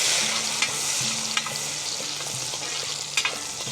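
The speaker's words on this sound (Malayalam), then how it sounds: "മുന്തിരി നമ്മൾ വറുത്തെടുക്കാൻ പോവാണേ." Raisins fry in ghee for a traditional Kerala aval vilayichathu snack, giving a steady close sizzle with intermittent stirring scrapes and brief clicks of a spoon against the pan, no voices.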